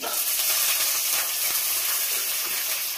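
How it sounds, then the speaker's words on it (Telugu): Cumin seeds sizzling in hot oil for a tamarind pulihora tempering, a steady, dense frying hiss that carries on unbroken and fairly loud, with no voices. "దీంట్లో కొంచెం అంత జీలకర్ర వేస్తున్నాను"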